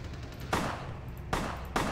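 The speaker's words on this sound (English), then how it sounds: "Just shooting people." In the video game Vampire: The Masquerade - Bloodlines, three loud gunshots crack out, each with a decaying tail, the last two fired in quick succession.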